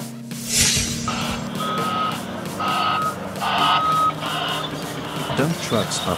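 Evenly spaced reversing beeps from a dump truck repeat over its low engine rumble, steady and moderately loud.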